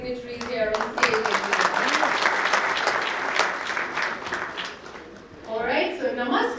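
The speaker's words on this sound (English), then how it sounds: "may I please have a huge round of applause for all our esteemed dignitaries here on stage" An audience at a 2013 banking excellence awards event breaks into full, dense applause for dignitaries on stage, with a voice speaking at the start and again as the clapping dies down.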